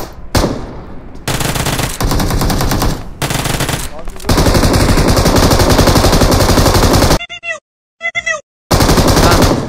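Rapid automatic gunfire in the video game BGMI, loud sustained bursts of shots broken by short gaps and a few clicks, with a voice faintly under it.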